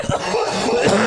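A single cough from a man, close by, burst out amid a noisy, lively room with other voices chattering underneath.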